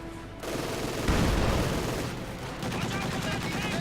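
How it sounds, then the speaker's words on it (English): Dense machine gun fire in the Company of Heroes 2 wartime strategy game, rapid continuous rattling bursts mixed with distant battle noise and explosions, loud and sustained throughout. "not standing out in the open versus a machine gun in a building"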